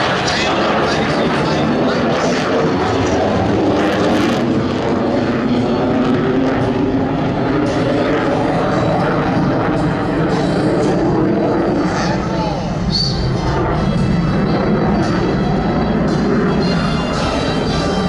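Vintage US Navy aircraft of the Tailhook Legacy Flight, including the Super Hornet, Corsair and Helldiver, pass overhead at the 2011 Blue Angels Homecoming Airshow. Their loud engine roar rolls on steadily, with an announcer's voice over it throughout.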